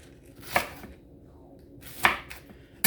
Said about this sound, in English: And then we'll cut them in like 2-inch segments.